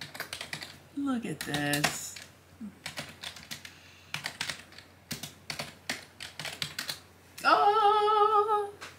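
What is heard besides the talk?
typing keystrokes on a tiny 8-bit BASIC computer kit keyboard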